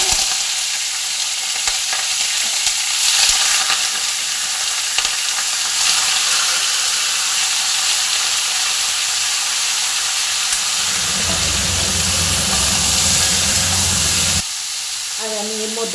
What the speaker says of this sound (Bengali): এই যে চিকেনগুলো আমি সব ভেজে নেবো।